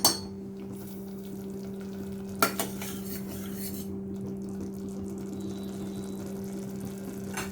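Ground masala paste sautéing in a pan, a faint sizzle and occasional utensil clacks under a steady low mechanical hum.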